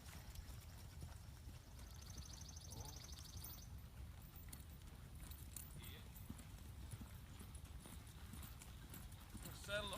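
Horse cantering in an arena, with faint rhythmic hoofbeats under a person talking, and some low background rumble throughout.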